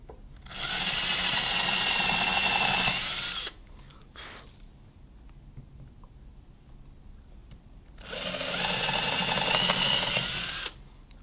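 Power drill boring pilot holes into wood for rustic home decor, two sustained loud whirring bursts of about three seconds each separated by a quieter pause, no talking.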